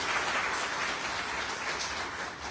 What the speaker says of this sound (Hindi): एक जोरदार ताली सबके लिए।